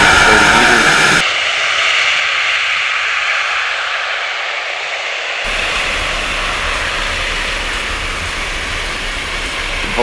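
Steady, loud roar of a lunar landing test vehicle's engine as it descends and translates sideways, a continuous jet-like rush with radio voices faintly over it.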